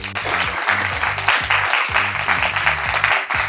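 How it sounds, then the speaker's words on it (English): A room full of people applauding together, one half of the audience clapping for the other, a steady dense wash of hands with some voices and low tones running underneath throughout. "Can the right-hand side of the room give the left-hand side of the room a massive round of applause for just coming today?"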